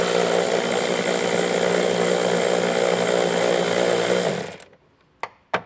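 A power tool whirs steadily as it removes 8 millimeter nuts from the taillight studs of a 2015 Mercedes. The loud, close, continuous drone runs for several seconds, then cuts off, followed by a couple of sharp clicks.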